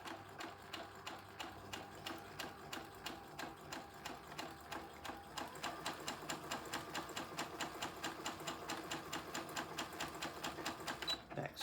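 A sewing machine stitches cow head quilt appliqué in a fast, even run of needle strokes that quickens slightly partway through, heard close and fairly quiet with no talking.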